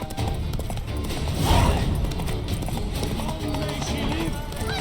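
Hooves clip-clop at a gallop as a horse is ridden in The Witcher 3, a steady rhythmic beat running under game music and spoken dialogue throughout.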